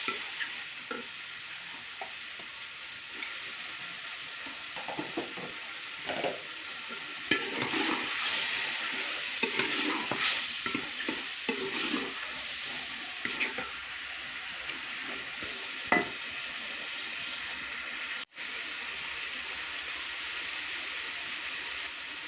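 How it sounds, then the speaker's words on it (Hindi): Black-eyed beans fry in spice masala in a pot, with a continuous low sizzle and frequent stirring and scraping that swells in the middle stretch, heard alone without speech. "इसको 10 मिनट तक ऐसे मैंने फ्राई करना है मसाले में।"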